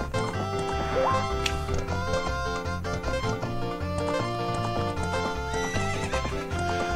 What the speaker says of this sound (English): apparently you can take this horse out of here